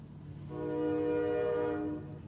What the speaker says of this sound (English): And of course, a train.